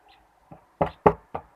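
Four hollow knocks rapped on the lid of a gift box, close and fairly loud, a soft tap followed by three firmer raps at uneven spacing with no other sound between.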